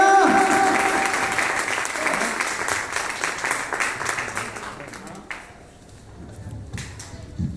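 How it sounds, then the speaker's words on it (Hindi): Loud applause rises from the audience at a fashion show, dense clapping that fades toward the end while a voice talks over it. "सही में हो रही है, जोरदार तालियां।"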